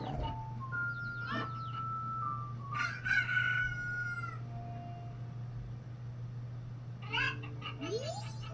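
Cuckoo chickens in a video game give shrill, sliding clucks and crowing calls in several bursts over a constant low hum, with squawks clustered near the start, middle and end.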